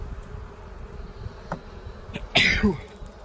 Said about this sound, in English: bees are kind of getting a little ticked off at me, so I'm going to put a little more smoke